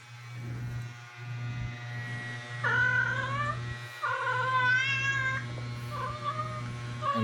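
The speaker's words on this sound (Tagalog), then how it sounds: "Dalawa kasi itong pusa dito sa bahay mag-asawa eh." A house cat lets out several drawn-out, whiny meows in a home, close and clear over a steady low electrical hum.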